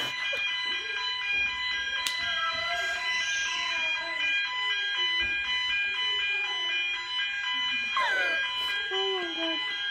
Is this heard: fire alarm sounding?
yes